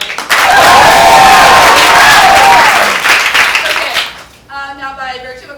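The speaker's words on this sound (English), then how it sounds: "we're going to give them a little golf clap to encourage them" Studio audience at an improv science theater show applauds and cheers in a loud, dense burst for about four seconds, then the crowd noise thins out and a voice carries over scattered claps.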